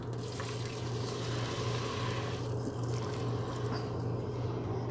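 Water pours steadily into a pan to rehydrate freeze-dried onion for a country boil broth in an RV kitchen, a continuous close splashing rush lasting throughout with no talk.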